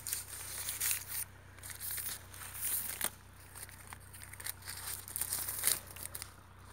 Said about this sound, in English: you can see how he's tying up the plastic bag